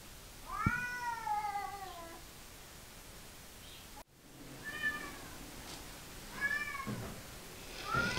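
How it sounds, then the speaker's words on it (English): A young dilute tortoiseshell cat meows several times, drawn-out cries close by with short pauses between them, over a faint steady hiss. "Well, here's a beautiful cat."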